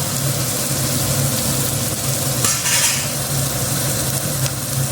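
Chicken sautéing in a pan for restaurant-style chicken dum biryani, a steady broadband sizzle and hiss with a low hum underneath and a brief brighter burst of frying midway.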